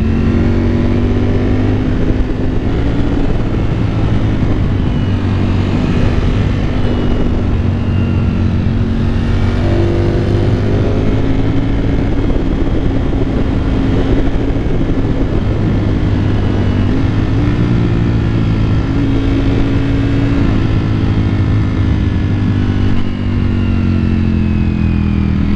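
A Ducati Panigale V4 S sport motorcycle roars loudly and steadily while accelerating at high speed, its engine note rising and sustained with heavy wind rush throughout, no voices.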